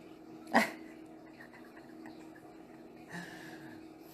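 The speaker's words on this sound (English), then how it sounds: "You heard her barking." A dog barks indoors from near a back door: one sharp, close bark, then a softer second bark about two and a half seconds later over quiet room noise.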